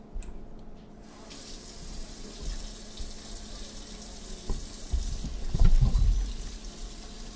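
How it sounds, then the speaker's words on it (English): Hands washed under a running kitchen tap, steady close water flow with splashing that grows louder toward the end as hands move under the stream; no talk. "So first things first is to remember to wash your hands."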